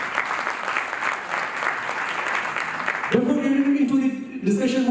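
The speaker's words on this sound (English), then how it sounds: "So let's have a big round of applause for yourself." Loud, dense applause from an audience at the Pharma Ratna 2019 awards ceremony, steady for about three seconds before giving way to music with tones and voices over it.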